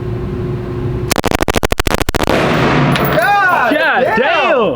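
A machine gun fires a magazine outdoors, a loud rapid string of about a dozen sharp shots lasting over a second, followed by people shouting and whooping.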